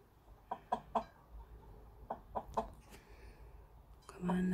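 A Cheonggye mother hen sitting on a clutch of eggs gives soft, close clucks in short bunches separated by quiet pauses, ending in a brief louder call.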